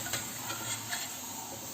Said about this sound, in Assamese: এনেকৈয়ে মই বাকীখিনিও ভাজি ল'ম